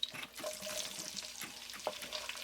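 Onions sizzling in hot oil with bay leaf, cloves, cumin and dried red chillies for a Lucknowi chicken stew, a faint, steady crackle with small spatters and stirring scrapes.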